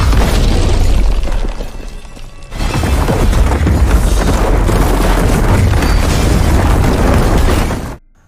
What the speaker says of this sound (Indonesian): tiba-tiba ledakan kembali datang, sehingga pria itu pun tewas mengenaskan